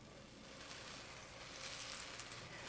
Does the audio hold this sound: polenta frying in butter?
yes